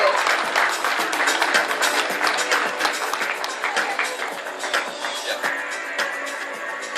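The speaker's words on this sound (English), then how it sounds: "So a big round of applause for Murli as well." Audience applause at a charity auction, a dense, steady clapping from a crowd that holds for the whole stretch without letting up.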